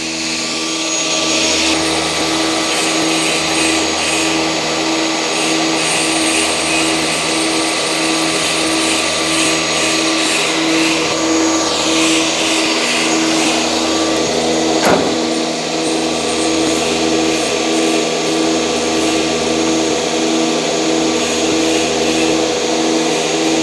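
A nesting CNC router with automatic labeling and a drilling head runs steadily over sacrificial MDF sheet, a constant loud mechanical whir with a rhythmic low pulsing and a brief sharp knock midway, no talking.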